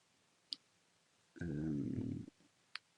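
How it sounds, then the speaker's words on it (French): Tab key tapped twice on a computer keyboard, giving two crisp, isolated clicks about two seconds apart in a quiet room, with a brief low hum between them. "il suffit juste de faire les tabulations avec la touche Tab de votre clavier"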